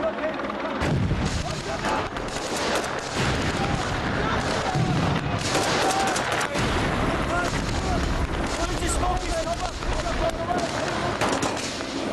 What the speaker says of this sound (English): They should be opening fire around about any time now